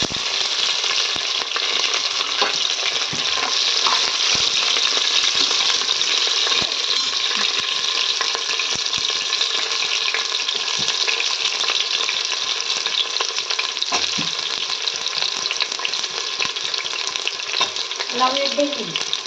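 Onion, coconut, green chilli and ginger frying together in a pan for sambar, a loud, constant hiss of hot oil with scattered clicks and scrapes of a stirring spoon, close and uninterrupted by speech.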